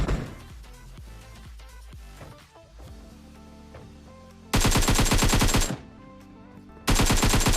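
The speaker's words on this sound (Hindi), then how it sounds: "अब साइड से भी कोई बंदा फायरिंग कर रहा था" Automatic gunfire in the battle royale game PUBG, rapid rattling bursts that start, cut off, then resume, with quieter shots and game sounds in between.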